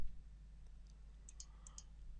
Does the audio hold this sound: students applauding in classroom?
no